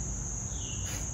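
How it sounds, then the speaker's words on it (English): A mosquito buzzing near the ear outdoors on a patio, a thin high-pitched whine that drifts and swells briefly over quiet background. "it's a mosquito."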